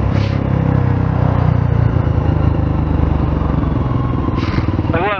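A motorcycle engine runs loud and close throughout with a steady low rumble and mechanical clatter, while a person talks briefly over it.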